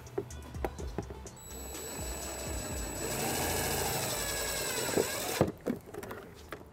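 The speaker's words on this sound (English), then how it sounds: "We're going to use the provided self-tapping screw and a 1/4-inch socket." A power driver with a 1/4-inch socket runs a self-tapping screw in as a ground on a 2013 Dodge Grand Caravan, giving a steady whir for about two seconds, then clicks and clatter at moderate volume.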